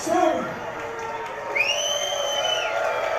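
A crowd at a swimsuit contest roars and whoops, with shouts and whistles rising over a steady wash of cheering and a voice audible in the mix.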